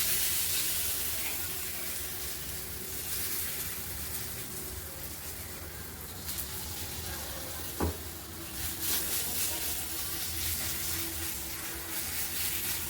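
Thalipeeth batter spread on a hot oiled tava sizzles and hisses steadily and close, with faint scraping as it is spread and a brief sharp tap midway.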